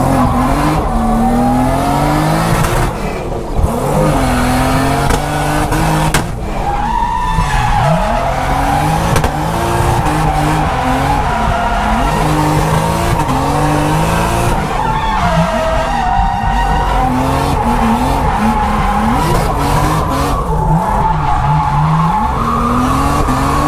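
Drifting car tires skidding and squealing continuously at close range, a loud sustained screech riding over the engine's revving drone, with the handbrake-driven slides blending into one long unbroken howl.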